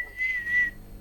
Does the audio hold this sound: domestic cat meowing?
no